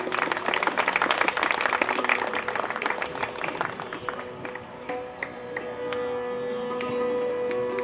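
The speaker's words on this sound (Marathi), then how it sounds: "या सर्वांसाठी एकदा जोरदार टाळ्या होऊन जाऊ दे" Audience applause at a stage music event, dense clapping that fades after a few seconds into a quieter tail with a sustained tone and light taps.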